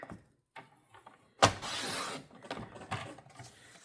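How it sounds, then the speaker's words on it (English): A paper trimmer cuts a sheet of cardstock: a few soft mechanical clicks, then a sharp sliding slice, followed by quieter rustling and handling sounds nearby. "we're going to take our trimmer and we're going to cut this down to 7 1/4"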